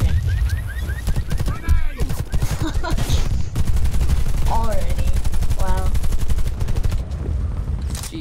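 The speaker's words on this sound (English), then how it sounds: "That was a really lucky hip fire." Rapid hip-fire gunshots ring out in the video game Warface, loud, dense bursts of automatic fire running almost continuously, with short pauses and overlapping voices talking.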